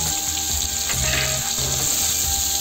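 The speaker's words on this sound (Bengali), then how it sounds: "ঢেমসি কটা ভালো করে লাল লাল করে ভেজে নেব" Tender tinda (round gourd) pieces sizzle steadily in hot oil in a pan, a loud continuous frying hiss with occasional stirring scrapes.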